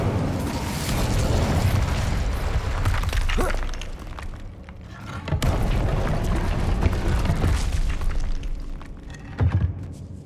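The Incendio fire spell cast in Hogwarts Legacy: a roaring, crackling burst of flame that sustains loudly, dips, then flares again with a second whooshing surge and fizzling crackles.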